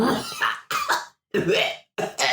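A voice imitates a harsh, hacking cough: four rough, raspy bursts in quick succession with short pauses between them, close and loud.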